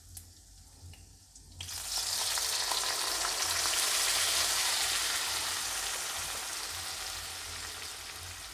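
Skunkvine (bhebeli lata) leaves hit hot oil in a pan and burst into a loud, steady hiss of frying for an Assamese lunch dish, the sizzle starting abruptly after a quiet moment and holding strong before easing slightly.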